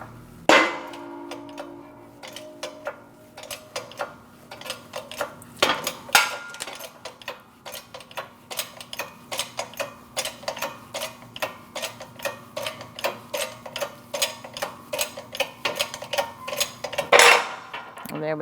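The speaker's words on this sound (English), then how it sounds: "So now we're going to press the hub out of the knuckle." A shop press forces the hub out of a 2012-2020 Chevrolet Sonic steering knuckle, producing a rapid series of sharp metallic ticks and clicks with a few louder clanks, close up and without talk.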